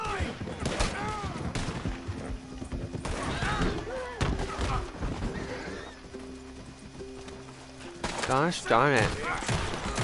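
Gunfire in Red Dead Redemption 2 mixes with horse hooves and a whinnying horse, with someone talking throughout, scattered shots near and loud, and a burst of action toward the end.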